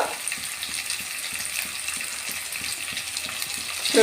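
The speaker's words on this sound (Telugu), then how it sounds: "నాలుగు చెంబులు వాటర్ పోసుకున్నాం" Water gushes from a chembu pot into a pan of upma being cooked village style, a steady continuous pour heard close and alone.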